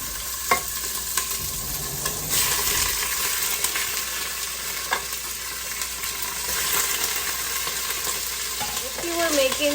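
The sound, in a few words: chicken pieces frying in hot oil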